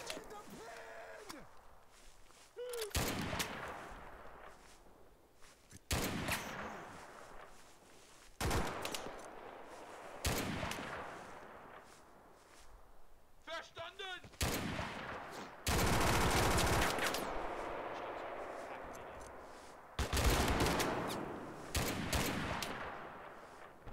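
Bursts of heavy gunfire in a WWII-style video game with a Pak40 gun, loud sharp volleys and rattling fire separated by quieter gaps, with a player talking in between.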